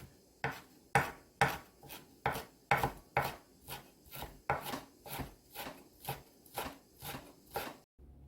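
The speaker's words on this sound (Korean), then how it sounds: "너무 잘지 않게 뿌리부터 1cm 정도 길이로 썰어서 준비할 거예요." A knife chopping wild chives (dallae) on a cutting board into roughly one-centimetre pieces, giving a close, even series of about eighteen crisp thuds in a steady rhythm with no talking.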